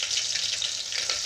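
Chopped onions frying in hot oil in a pan while making spicy toor dal, a steady broad sizzle filling the short moment close up, with no talking.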